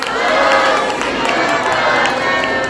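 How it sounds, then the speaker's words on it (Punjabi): A crowd at a gurdwara in Phagwara shouts a Sikh jaikara war cry in unison, a loud, sustained roar of many voices that holds steady across the whole moment. "ਇੱਕ ਜ਼ੋਰਦਾਰ ਜੈਕਾਰਾ ਬੋਲੇ ਸੋ ਨਿਹਾਲ।"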